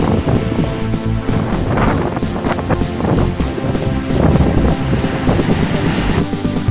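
Strong wind gusts buffeting the microphone on a sandy beach in Vietnam, loud and continuous with rough, blustery roaring throughout.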